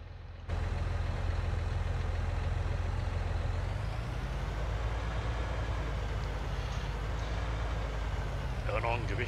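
A tractor engine idling in a farming video game, a steady low rumble running throughout with a slight shift in pitch partway through, and faint higher tones near the end.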